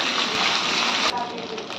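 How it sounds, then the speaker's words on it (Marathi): Ginger garlic paste fries with browned onions in a loud, close, steady hissing sizzle that drops off abruptly near the end. "आता थोडीशी अद्रक लसणाची पेस्ट टाकू ह्याला सुद्धा थोडं भाजून घेऊया"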